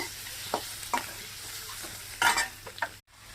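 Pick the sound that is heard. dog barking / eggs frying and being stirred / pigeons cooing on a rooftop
eggs frying and being stirred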